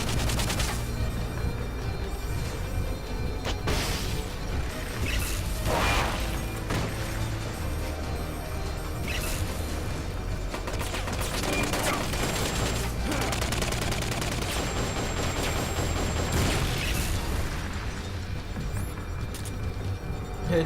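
Rapid bursts of gunfire and crashing impacts in Metal Gear Solid: Peace Walker, dense and continuous over a sustained game soundscape with intermittent loud volleys.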